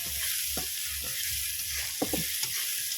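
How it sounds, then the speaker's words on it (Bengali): Shrimp sizzling in a pan over a wood-fired stove, with scraping stirring strokes cutting through the steady frying hiss and a low crackle underneath; several sharper clinks near the end, no voices. "চিংড়ি মাছ এবার আমি দিয়ে দিলাম।"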